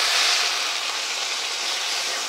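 Water poured over red lentils frying in a pan brings a dense, even hiss of steam and sizzle that holds steady and fairly loud for the whole moment.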